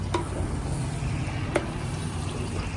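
Butter melting in a hot pan for butter paneer masala, a close, steady hiss and crackle that runs unbroken with a couple of small clicks from utensils, no talking.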